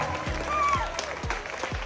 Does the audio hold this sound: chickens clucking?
no